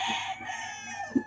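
A gamefowl stag crows once on a game farm, the call short and somewhat distant, with faint background noise and no talk.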